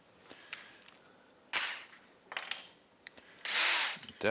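A power drill with a bit just under a quarter inch runs in short, sharp bursts separated by quiet gaps, ending in one longer, louder whine.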